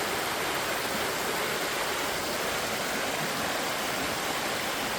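A small waterfall in a countryside stream swollen by persistent rain gives a constant, full rushing roar close by, steady and unbroken, with no talk.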